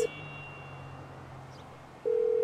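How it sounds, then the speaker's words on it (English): In GTA V, a phone call to emergency services opens with a short tone, then a faint steady hum, and ends with a loud, sustained ringing or dial tone. "on my phone, I'm gonna call emergency services."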